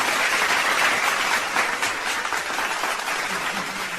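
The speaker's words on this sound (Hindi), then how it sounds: "जोरदार तालियां" An audience claps warmly for a poet at a Hindi poetry recital, a dense, even wash of applause heard close and sustained from start to finish.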